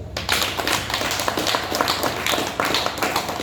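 A group of people, including sadhus, clap their hands to welcome a newcomer, a continuous, fairly loud patter of many hands with uneven bursts running throughout, no voices on top.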